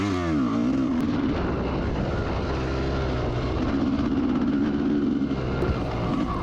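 A vintage motorcycle at an AHRMA race in Frackville roars steadily nearby, its engine drone rising and falling as the bike passes, with a broad rumbling tone and no talking.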